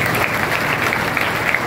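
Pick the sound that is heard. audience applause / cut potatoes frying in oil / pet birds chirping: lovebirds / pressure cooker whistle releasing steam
audience applause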